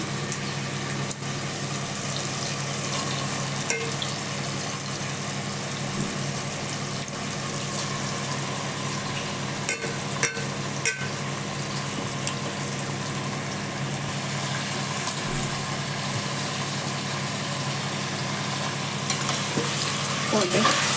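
Cleaned chicken frying in hot oil with softened onion and tomato for a chicken gravy, a dense continuous sizzle with occasional stirring clatter, close and steady throughout.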